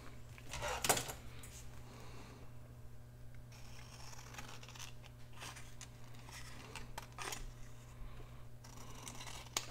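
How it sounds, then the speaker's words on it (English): Scissors snip paper scraps for a handmade journal, a few crisp cuts with one louder snip early on and softer paper rustles afterward, close and quiet over a low steady hum. "And then I think we'll cut another one"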